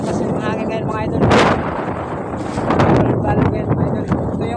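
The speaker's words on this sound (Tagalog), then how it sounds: "malakas yung hangin ngayon" Strong wind in rainy weather buffeting the microphone, rough gusty roaring with loud bursts and rumbling swells, close and continuous.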